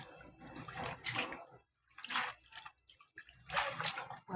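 Amaranth leaves being washed by hand in a vessel of water, heard as close, intermittent sloshing and splashing in short bursts separated by brief pauses.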